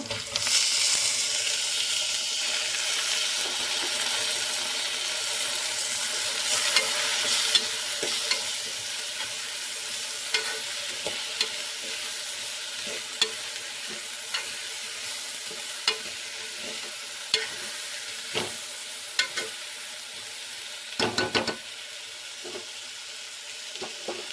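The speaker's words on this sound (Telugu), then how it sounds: "ఇప్పుడైతే బాగా కడుక్కున్న పెసరపప్పు అయితే వేసుకున్నాను" Washed moong dal frying in a pan, a steady sizzle running throughout with frequent scraping stirs and clinks of the spoon against the pan.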